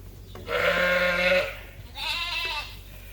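Dorset sheep in a pen bleat twice in close succession, a long wavering call followed by a shorter higher one, clear and near with no talk.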